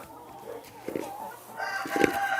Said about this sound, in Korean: 130여 마리의 닭을 키우는 오영숙 할머니는 아침이 제일 즐겁습니다